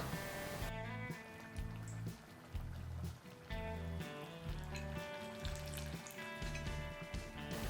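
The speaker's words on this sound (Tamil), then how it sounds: "பஜ்ஜி எல்லாம் சூப்பரா பொரிஞ்சு வந்திருக்கு" Chilli bajji deep-frying in hot oil, a busy close sizzle that bubbles on steadily with small surges and some clinks from the pan.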